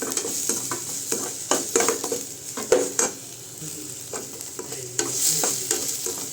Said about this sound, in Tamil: அதுக்கப்புறம் இஞ்சி பூண்டு பேஸ்ட்டை நல்லா வதக்கிக்கோங்க.